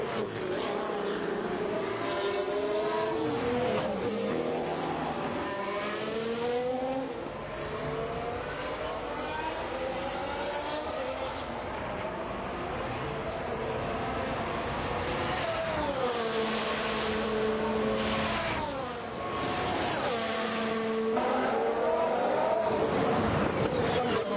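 Formula 1 cars at speed on track during the second practice session of the 2021 Russian Grand Prix, a Mercedes among them on red soft tyres; loud high engine whines rise and fall with gear changes over steady crowd-like noise.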